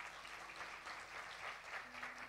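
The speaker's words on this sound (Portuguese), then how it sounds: "Quem entendeu, dê um aplauso bem forte ao Senhor." Church congregation applauding, a steady, distant-sounding wash of clapping at low level throughout.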